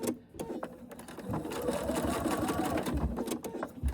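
A sewing machine top stitching fabric: a steady, close, rapid mechanical whirr and clatter that runs continuously, with a brief quieter pause near the end.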